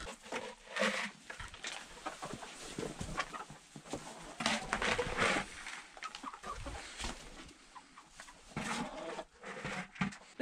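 Chickens cluck near and far on a snowy off-grid homestead, with uneven bursts of clucking and soft pattering in between.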